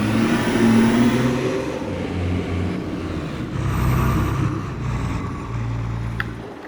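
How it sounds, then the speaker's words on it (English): A Dodge truck engine runs and revs steadily at close range, a low mid-pitched drone rising and falling in a few surges, with faint whirring over it and no talk. "Fire up the Dodge"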